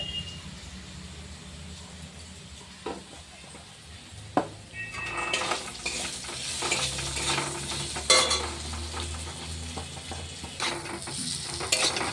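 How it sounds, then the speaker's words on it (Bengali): Potatoes and cumin seeds sautéing in a pan, with a steady close sizzle, scattered stirring scrapes and utensil clinks that grow busier and louder partway through. "এটা একটু হালকা কষানো হলো"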